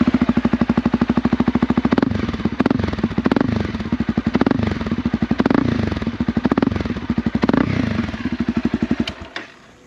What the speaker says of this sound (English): she's got a little Two Brothers Racing exhaust. Yeah, she sounds pretty neat